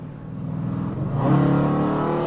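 A Dodge Challenger's engine growls at a steady idle, then swells into a louder, deeper revving roar as the car accelerates, close and continuous.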